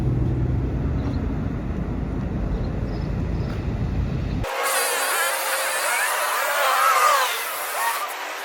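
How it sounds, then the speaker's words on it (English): Sawzall reciprocating saw with a dull blade cutting while making a knife, a loud, harsh continuous buzz whose tone shifts abruptly partway through into a high, rasping grind. "I definitely should have grabbed the new Sawzall blade"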